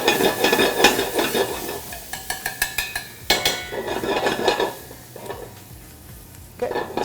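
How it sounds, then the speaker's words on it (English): Browning onions stirred in a cooking pot for butter chicken, with a steady sizzle and frying crackle under repeated scraping and clinks of a spoon against the pot, close and moderately loud, pausing briefly before stirring resumes. "We just want to keep moving the pot around, making sure that the onions don't burn to the bottom of the pot."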